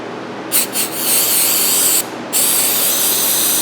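Mass air flow sensor cleaner sprayed from an aerosol can onto the sensor elements of a Chevy or GMC vehicle in a repair shop, heard as several close, loud hissing bursts: two short squirts, then two long sustained sprays.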